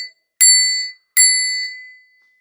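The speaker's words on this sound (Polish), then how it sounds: "I tu mamy na przykład taki dzwonek z Łabęd od pana Pośpiecha" An old bicycle bell rings twice, each strike a bright, clear metallic ding that rings on and fades out, with a short silence between them.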